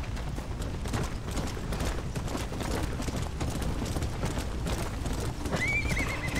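A horse in Red Dead Redemption: Undead Nightmare hoofs along steadily under a constant bed of game ambience, then lets out a clear neigh near the end.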